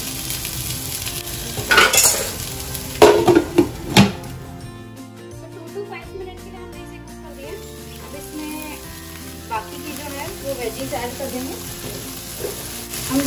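Vermicelli upma with vegetables frying in a pan while a spoon stirs it, steady sizzling with scraping and clinks of utensil against metal, with background music.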